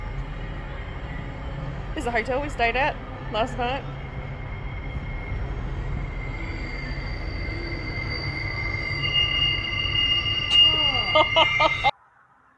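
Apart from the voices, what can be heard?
cargo train passing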